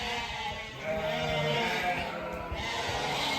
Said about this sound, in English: you can see there's some nice lambs here to be fair